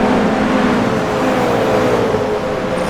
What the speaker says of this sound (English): So we're watching the cars coming through turn 13.